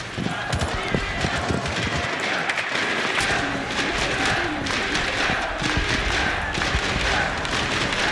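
Esports tournament crowd at the Rainbow Six Siege Six Invitational 2020 playoffs, a loud, dense roar of cheering and clapping that fills the whole stretch without letup.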